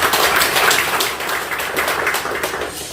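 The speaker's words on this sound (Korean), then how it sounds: "우리 보내어 주신 하나님께 큰 박수로 맞아드리도록 하겠습니다" A church congregation at a thanksgiving worship service claps steadily for about three seconds to welcome the preacher, a dense, even patter of many hands with no voices on top.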